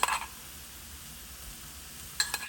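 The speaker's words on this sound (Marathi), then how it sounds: "यात आपण कुटलेलं अद्रक लसूण घालूया।" Crushed ginger and garlic go into a pan of sautéed onion, giving a quiet, steady sizzle with brief metallic clinks of utensil on pan at the start and end.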